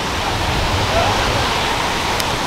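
Waterfall at a swimming spot in Provence, southern France, with a loud, continuous rushing roar of falling water, close and steady throughout without pause.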